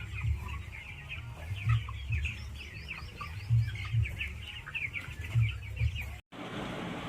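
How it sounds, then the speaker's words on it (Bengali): Poultry birds, sick with a cold, cluck and call repeatedly through a steady flock murmur, with low grunting clucks pulsing in clusters and higher chirps scattered throughout, fairly close. "এই যে খিচখাচ আওয়াজ দেখুন, এই পাখিটা এসছে"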